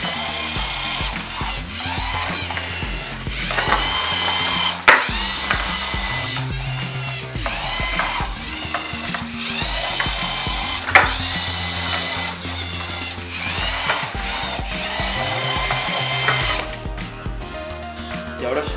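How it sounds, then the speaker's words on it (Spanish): A robot kit built from an Arduino kit with 3D-printed parts moves black and white cans to matching sides, whirring and ratcheting mechanically in bursts with a couple of sharp clacks, close up and continuous. "Este robot lo que hace es llevar las latas negras al lado negro y las latas blancas al lado blanco."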